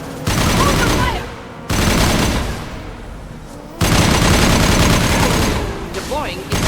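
Sustained gunfire in the Mass Effect video game, loud dense bursts of rapid shots that swell and ease in waves, with voices talking beneath the shooting.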